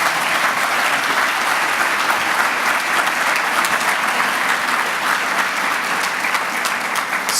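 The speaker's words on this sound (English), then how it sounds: "Please give him another round of applause" Audience at a regional all-star gala gives sustained, dense applause, loud and steady throughout with no talk over it.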